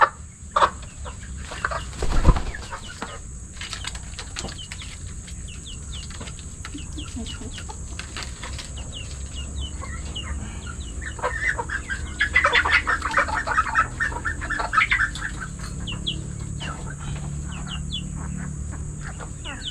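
Several Darag hens, some sick with a rattling respiratory illness, cluck and murmur steadily over a constant background hum, with a few louder clucks rising from the flock.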